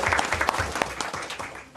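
A brief burst of applause from the audience at a city council meeting, uneven and moderately loud, fading slightly toward the end.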